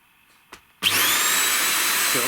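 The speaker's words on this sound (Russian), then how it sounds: "Итак, включаем пылесос." Starwind SCH1012 vacuum cleaner switched on after a click, its motor spinning up into a loud, steady high-pitched whine and roar at close range.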